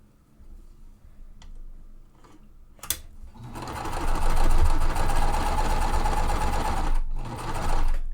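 A sewing machine stitches quilt pieces, starting with a few light clicks before running in a loud, steady whir for several seconds, pausing briefly, then picking up again.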